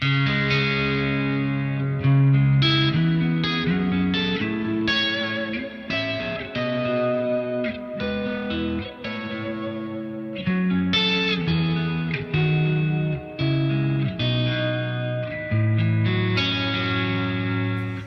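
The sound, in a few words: clean electric guitar tone with compressor, reverb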